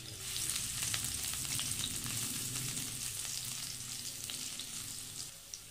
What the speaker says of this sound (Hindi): अब ये 4-5 लहसुन की कलियाँ जिसे मैं कट कर ली हूँ, इसे ऐड करके इसे थोड़ा सौते कर लें।